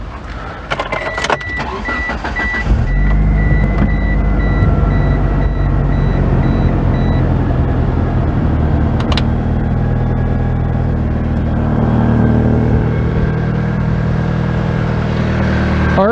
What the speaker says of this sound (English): we're going to hop in the car, start it up, test the voltage